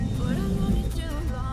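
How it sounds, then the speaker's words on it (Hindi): A car with a seized engine running close by, giving a steady, loud rough drone with wavering whine, under a voice talking. "ये देखो कितनी आवाज कर रही है गाड़ी"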